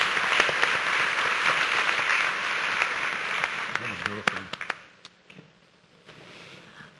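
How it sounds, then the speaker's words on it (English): An audience at an all-school day gathering claps in a steady, fairly loud burst, with a few sharp individual claps standing out as it fades into a quieter room with faint murmuring. "Let's give them a round of applause too."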